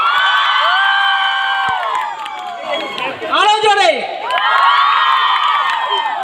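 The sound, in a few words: crowd clapping and cheering for actor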